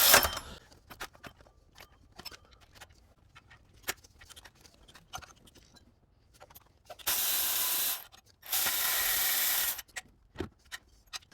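Ratcheting and tightening of bolts on a 2005 Toyota 4Runner 4.7L engine during a timing belt and water pump job: scattered close metallic ticks and clicks, with two longer hissing bursts like an air spray partway through.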